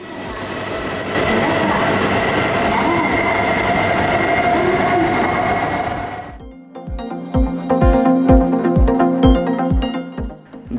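Japanese bullet train rushing past with a steady broad roar that cuts off, then a rapid rhythmic clatter of wheels over rail joints, loud and close, no talking.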